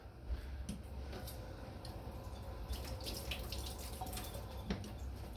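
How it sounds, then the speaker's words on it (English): A milk frother is rinsed under a running kitchen tap, giving a faint, steady trickle of water with small clicks and drips. "I rinsed out the milk frother."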